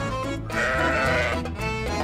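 A sheep bleating close by in a long, wavering cry, loud and alone with no talk over it.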